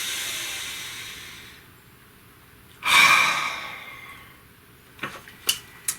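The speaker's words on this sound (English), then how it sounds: "take a nice deep breath" A single deep breath is drawn in loud and close, a long airy inhale rising out of quiet room hiss, followed by a few soft ticks and small clicks.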